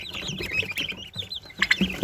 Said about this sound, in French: c'est de la poule pondeuse